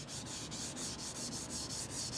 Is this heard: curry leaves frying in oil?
no